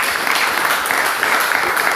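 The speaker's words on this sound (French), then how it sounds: "Applaudissons pour sa femme." Steady applause from a church congregation during a sermon, dense and continuous clapping filling the room for two seconds with no voices on top.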